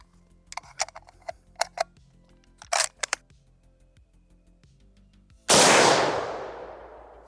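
A Lee-Enfield rifle fires a single 180 grain S&B soft point round, one sharp loud blast with a long decaying echo, after a series of light mechanical clicks and ticks from the rifle's handling.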